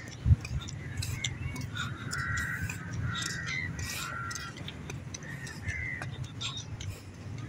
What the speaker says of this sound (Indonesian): Nah, kayak gini paling banyak di Malaysia ini, burung gagak.